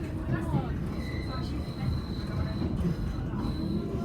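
A train rumbles steadily into Newark Northgate station with a faint high whine of wheels on the rails, voices murmuring underneath as it comes in.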